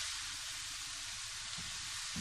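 Vegetables and spices frying in a pan for a vegetable curry, a steady, even sizzle that holds at a moderate level throughout with no voices.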